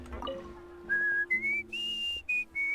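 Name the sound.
whistling in a video game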